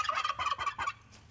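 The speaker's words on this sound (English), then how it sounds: "where the pardoned White House turkeys live out their days" Pardoned White House turkeys gobbling, a rapid burst of rattling calls up close, loud and brief with no talk over it.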